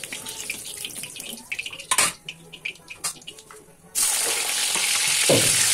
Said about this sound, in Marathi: तीन चार बॅचेसमध्ये थोडे थोडे घालून फ्राय करून घेतले फ्लॉवर मी.